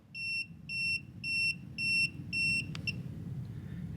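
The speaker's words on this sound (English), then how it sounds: "when you put it on the hot wire, you can see and hear that it's beeping" Electrical voltage tester held against a live hot wire in an attic ceiling fan box install, chirping five evenly spaced, shrill electronic beeps over a low background hum, then falling silent.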